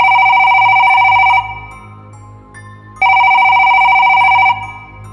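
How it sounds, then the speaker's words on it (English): An unplugged telephone rings at midnight in a horror short, with loud, shrill electronic bell bursts: two long rings separated by a quiet pause, close and alone with no voices. "She stared at the phone, still unplugged, as it vibrated with each shrill ring."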